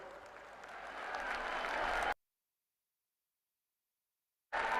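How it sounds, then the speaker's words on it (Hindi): Crowd applause at a BJP political rally in Dausa for PM Modi, clapping swelling for about two seconds, then cutting abruptly to silence before briefly resuming. "एक बार इस पंडाल में माननीय प्रधानमंत्री जी का, माननीय नितिन जी का जोरदार तालियों के साथ आप अभिनंदन करें"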